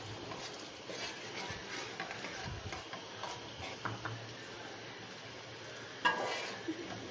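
Whole spices and light-brown onions fry quietly in a pan for chana pulao, giving a soft, steady sizzle with a few ticks and a sharper clatter of a spoon near the end, with no talk.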